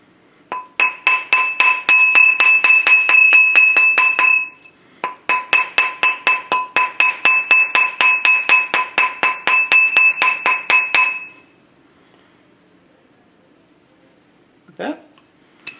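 A metal ring is hammered on a steel mandrel in a jewelry class, with a fast, steady run of bright ringing strikes, a short pause, then another long run, followed by quiet and one last clink.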